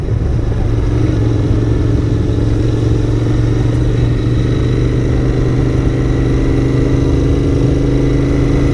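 A Royal Enfield Interceptor 650 motorcycle engine idles with a low, steady burble, close and continuous throughout, with a faint mechanical clatter on top.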